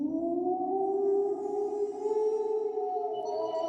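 A woman imitates a wolf howl with one long, sustained, wavering howl that starts low and rises slightly. It sounds loud and close, with no other talk.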